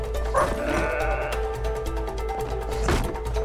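Sheep bleating in the video game It Takes Two, two or three bleats over a steady in-game background hum with some clicks, at moderate level.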